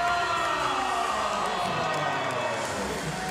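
An arena crowd at a European Championships wrestling final roars steadily in appreciation of Turkish wrestler Riza Kayaalp winning his 11th title, a broad, sustained wash of cheering with no letup across the moment.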